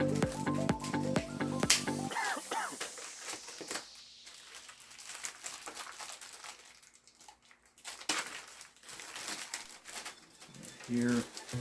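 A SteelSeries Apex 7 keyboard is pulled free of its plastic wrapping, with close crinkling and rustling bursts of plastic that come and go over several seconds, with a louder crackle near the end.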